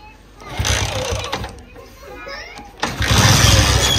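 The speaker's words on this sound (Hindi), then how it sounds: "रेडी है, मोटरसाइकिल रेडी है, अभी मैं जा रहा हूँ।" A motorcycle engine catches and starts with a rough burst of noise near the end, with people and children talking in the background.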